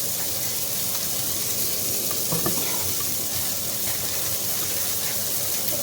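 Onions sizzling in a frying pan while sautéed mushroom, onion and Swiss cheese grass-fed burgers are being cooked, a steady close hiss of frying with a faint stir in the middle, no talking.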